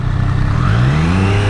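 A 2023 Triumph Street Triple 765 RS motorcycle's engine revs up loudly and close, its pitch climbing in one smooth rising pull.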